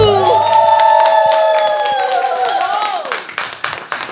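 A studio audience at a trot singing show cheers and shouts at first, then breaks into clapping that grows into scattered, rhythmic applause toward the end, loud and close.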